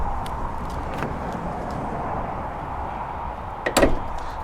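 The side door of a Benimar Benivan 161 campervan is pulled open. After a few seconds of quiet ambience comes a brief mechanical click and a sliding clunk near the end.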